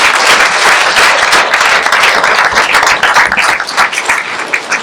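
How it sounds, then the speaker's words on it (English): Loud, dense audience applause at a school board meeting honoring students, sustained and continuous throughout with no talk over it. "So one more round of applause"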